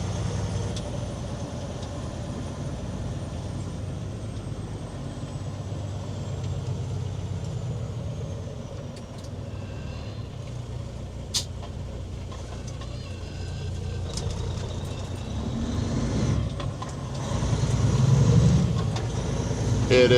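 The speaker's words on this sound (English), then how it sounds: "We got lots of traffic just in case someone's traveling slow." Steady road traffic on a busy Alberta route carrying log trucks and low-bed haulers, a continuous broad engine and tyre rumble with a heavier vehicle swelling louder near the end.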